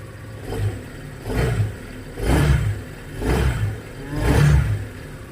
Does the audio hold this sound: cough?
no